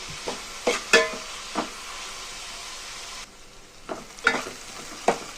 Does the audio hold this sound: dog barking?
no